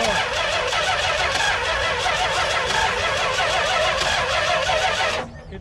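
A 1971 Dodge Demon barn-find engine catches and runs loud and steady for about five seconds, with the choke set rich, then cuts off abruptly near the end.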